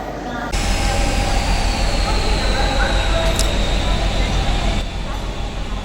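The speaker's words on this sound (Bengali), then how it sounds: "আর আমাদের ট্রেন ছেড়ে দিল তিরুপতি থেকে কাটপাডির উদ্দেশ্যে" A MEMU commuter train pulling out of Tirupati toward Katpadi, its steady rumble and rolling wheel noise filling the scene, with faint muffled voices in the background.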